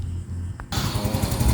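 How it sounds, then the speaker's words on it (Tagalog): A Yamaha Mio Soul i 125 scooter engine starts after a short starter whir, then catches into a close, steady, pulsing idle. "i-check na natin kung andar na ba itong unit na to mga padi"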